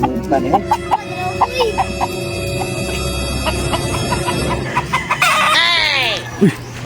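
Chickens cluck and a rooster crows loudly nearby, with scattered clucks throughout and a drawn-out crow toward the end, while people talk over the birds.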